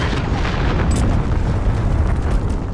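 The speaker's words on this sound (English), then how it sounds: "Allied cruise missile." A loud allied cruise missile strike in a multiplayer war video game on a cave map rumbles as a dense, sustained explosion lasting the full stretch, with a brief sharp burst near the start and no talk.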